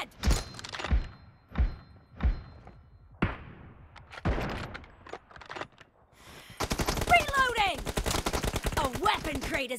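Gunfire in PUBG Mobile domination mode: a handful of heavy single shots with echoing thumps, then a dense burst of rapid automatic fire, loud and close.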